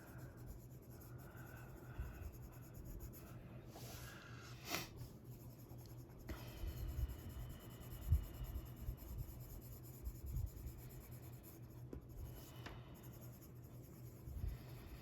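Prismacolor colored pencil shading skin tones on tan paper, a steady soft scratching and rubbing of the pencil tip with occasional sharper strokes, close and quiet throughout.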